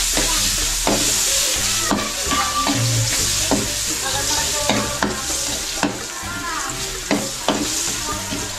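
Ginger sizzles and fries in a hot pan, a loud continuous crackle broken by regular scrapes and knocks of stirring.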